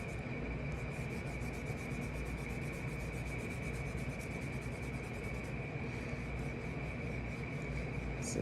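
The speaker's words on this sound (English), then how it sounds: "erase into the charcoal and the pastel for your lights" An eraser rubs back and forth across a charcoal and pastel drawing of a hand, making a steady, continuous close-up scrubbing rasp that runs unbroken from start to finish with no voices.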